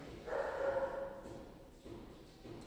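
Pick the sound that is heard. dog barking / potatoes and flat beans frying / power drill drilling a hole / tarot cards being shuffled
dog barking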